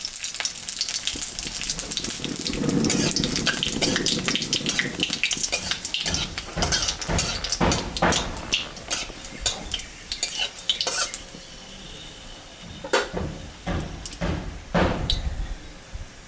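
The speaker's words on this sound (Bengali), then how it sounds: "শুকনো লঙ্কার জিরা সম্বরা দিলাম" Dried red chillies and cumin seeds hit hot oil for a tempering, giving a loud crackling sizzle with stirring clatter that gradually settles into softer bursts and scattered pops.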